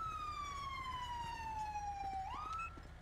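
A single police siren wail in the video game mod LSPDFR, sweeping slowly downward in pitch, then rising sharply near the end before cutting off, fairly clear and steady.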